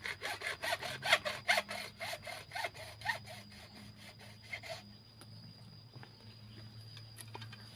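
A hacksaw rasps through PVC pipe in quick back-and-forth strokes for about five seconds, then stops, leaving quiet background hum.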